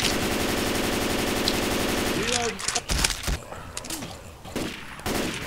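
Rapid automatic gunfire from Left 4 Dead 2 rattles continuously and loud for the first two seconds, then gives way to scattered shots, thumps and game noise with brief voices in between.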